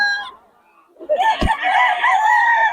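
A stag rooster crows loudly and close, one long drawn-out call after a brief earlier cluck-like sound, with a sharp knock partway through.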